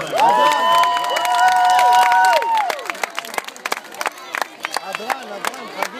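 Crowd clapping at a Shavuot celebration in Gderot, quick sharp claps rising beneath sung voices, then continuing as scattered applause and cheering once the singing ends.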